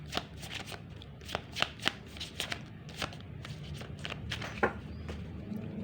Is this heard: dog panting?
no